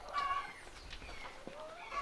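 Chickens on a farm lodge in Guatemala cluck and chatter softly, a few overlapping bird calls at moderate distance with faint background ambience and no talk.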